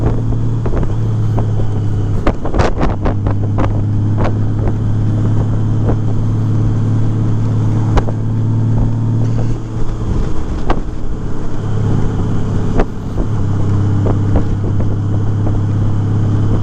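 A 2018 Honda Goldwing Tour motorcycle with modified stock mufflers cruises around 2,000 to 2,600 rpm, its low, steady exhaust drone continuous under heavy wind noise on an open road in light rain.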